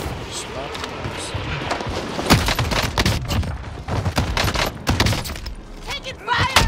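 Sharp bursts of gunfire erupt in the video game Warzone, loud and close, with scattered impacts over a busy background and voices talking throughout.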